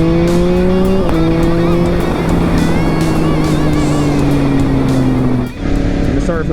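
A Yamaha MT10 motorcycle fitted with a full Akrapovic exhaust roars loudly nearby, its engine note sliding slowly downward before a brief dip, with someone talking over it.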